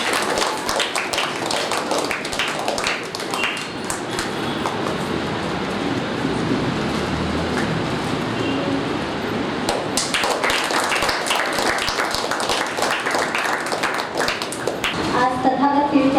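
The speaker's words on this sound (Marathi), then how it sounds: "जोरदार टाळ्या वाजवून त्यांचं स्वागत करा।" An audience applauds to welcome a guest at a Buddha Purnima and Maharashtra Day felicitation ceremony, a dense, loud, sustained wash of clapping that swells again near the end.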